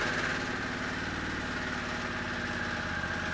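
A Harley-Davidson Pan America motorcycle engine idles steadily and close, a dense rumbling drone with an even throb throughout.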